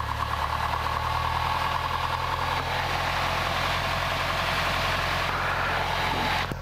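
A Cessna Skyhawk light aircraft's piston engine idling while taxiing, a steady close low rumble with a rough, knocking throb throughout.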